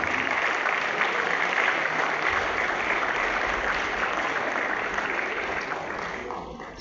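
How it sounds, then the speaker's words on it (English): A lecture hall audience at an annual memorial lecture gives a sustained, even round of applause, a thick wash of many hands clapping at once that gradually softens toward the close. "I think your Director of School deserves a round of applause."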